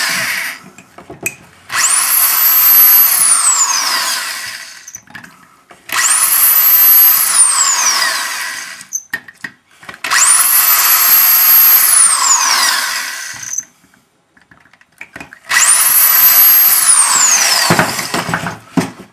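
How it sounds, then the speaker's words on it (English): A power drill whirs up and runs in four long bursts, each several seconds, with brief quiet gaps between them, loud and close. "So then I drill it."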